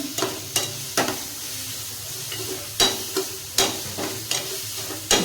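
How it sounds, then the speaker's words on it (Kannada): Green chili paste frying in hot oil in a pan makes a steady crackling sizzle, punctuated by sharp, regular clacks of a stirring spoon against the pan every second or so, close and clear with no talk. "ಈಗ ಇದು ಸ್ವಲ್ಪ ಇದರಲ್ಲೇ ಫ್ರೈ ಆಗಲಿ."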